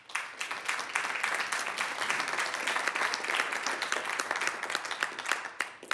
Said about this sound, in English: Those who believe it's to enhance public safety, please applaud.